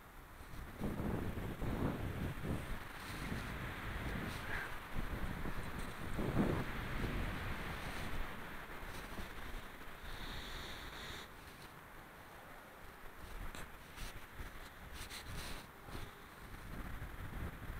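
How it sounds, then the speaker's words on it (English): Strong gusts of wind buffet the microphone among trees in rough, rising and falling bursts, with a low roar throughout and no voices. "It's too windy."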